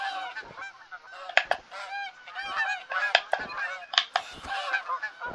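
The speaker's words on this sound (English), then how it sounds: "There's a bunch of geese just sitting in the field." Geese sitting in a field honk repeatedly in overlapping, nasal calls, several birds at moderate distance, with the calls coming in irregular bursts over a few seconds.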